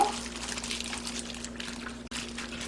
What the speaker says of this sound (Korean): 여기에다가 이 국물을 좀 잔뜩 이렇게 부어주세요